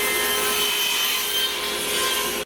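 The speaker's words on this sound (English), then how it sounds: "So I'm going to run this through the table saw and square it up real nice." A table saw runs through plywood in one continuous loud cut, a dense steady roar of blade and wood lasting a couple of seconds before stopping abruptly.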